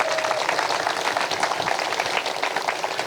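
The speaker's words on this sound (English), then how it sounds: "Let's clap it up for them as well." Ceremony crowd at a statue unveiling for Dawn Staley in Columbia applauding sponsors, a dense steady wash of many hands clapping throughout with no talk over it.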